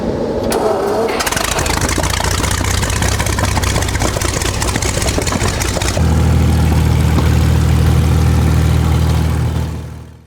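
A Churchill tank engine starts with a rising mechanical roar, then settles into a loud, steady, deep idle rumble that runs on alone until it cuts off at the end.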